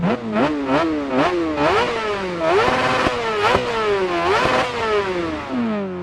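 A motorcycle engine in the racing game Dirt Rally 2.0 revs hard and loud, with quick repeated rises and drops in pitch, then longer sweeping pulls through the gears.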